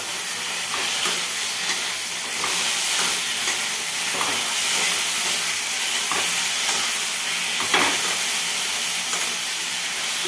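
A fish head frying in oil in a pan gives a steady, loud sizzle and hiss, with occasional scrapes from stirring, throughout.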